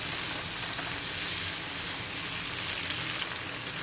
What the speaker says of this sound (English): I'm going to saute these peppers about 4 minutes.